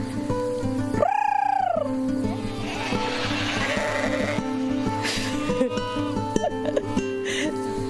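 Goats and sheep on a farm bleat, one loud wavering call near the start followed by more scattered bleats and calls, with a constant low background hum and some faint voices.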